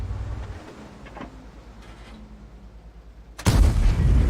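Incoming artillery shells in an M46 Patton tank video game: faint scattered thuds and whistles over a low engine rumble, then one sudden loud close impact that keeps roaring to the end.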